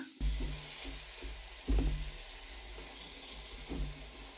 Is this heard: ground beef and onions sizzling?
yes